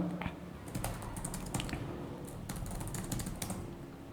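Rapid typing on a computer keyboard entering a docker ps command, with a steady run of close, crisp key clicks and no voices.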